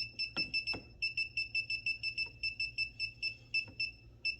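A handheld breaker finder tool scanning for a GFCI circuit gives a steady train of rapid, evenly spaced high electronic beeps, moderately quiet, with a few faint knocks underneath.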